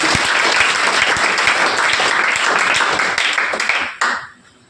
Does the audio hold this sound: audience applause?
yes